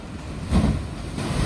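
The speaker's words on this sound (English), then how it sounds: "that trapment of air with the water crashing up creates this thunder sound" Ocean waves crash into rocky shoreline two hours before high tide at Acadia National Park, Maine, with air trapped in the surge producing a deep thunderous boom that swells midway amid constant roaring surf and wind.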